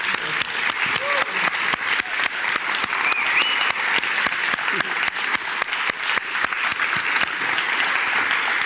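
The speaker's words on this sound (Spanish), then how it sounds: "yo les invito otra vez nuevamente a extender un aplauso gigante por todo el" An audience at a talk on a grassroots environmental association gives sustained applause, dense rapid clapping from many hands, loud and steady for nearly nine seconds, with a few faint voices underneath.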